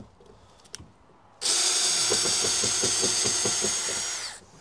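A power tool spins up after a short quiet pause and whirs steadily for about three seconds while driving fasteners on a Peterbilt 389 truck window regulator, then winds down, close and loud with no talking.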